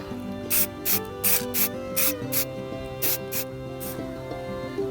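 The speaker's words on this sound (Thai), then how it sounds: "เดี๋ยวเรามา พ่นเลยนะครับ ก็ พ่นบางๆนะครับ" Several short hissing bursts of aerosol spray paint applied thinly, in an uneven rhythm over music playing in the background.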